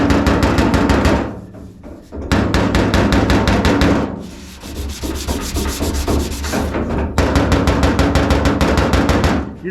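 A hammer and dolly pound a dent out of a car body panel with rapid, loud, close metallic blows in sustained bursts, broken by two short pauses.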